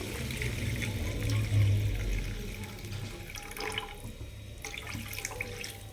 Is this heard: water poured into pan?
yes